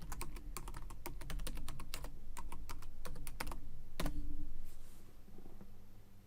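A computer keyboard clatters with quick, close keystrokes in short bursts as a password is typed, ending with a firmer key press and then quiet.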